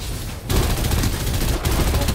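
Rapid automatic gunfire in the shooter video game Farlight 84, a dense continuous burst with a brief break and loud, close sound effects throughout.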